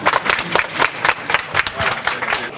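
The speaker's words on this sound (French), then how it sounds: "On applaudit." Clapping from an audience at the inauguration of a high school library, a brief burst of fairly close, uneven claps with a loose pulsing rhythm.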